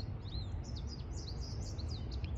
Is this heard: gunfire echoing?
no